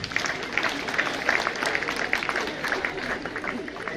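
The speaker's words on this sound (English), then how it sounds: "Can you clap for all of them as they sit?" An audience at a university welcome address for first-year students claps, producing dense, continuous moderate applause that holds steady for a few seconds.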